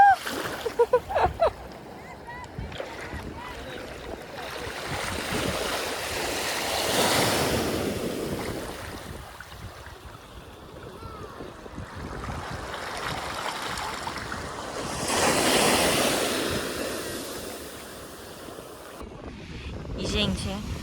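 Sea waves on a beach in Portugal, with steady surf wash and two big swelling crashes, mixed with wind buffeting on the microphone and someone talking near the start.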